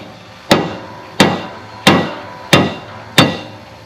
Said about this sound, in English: I'll start out with big punch, big hammer, and I'll hit this just lightly.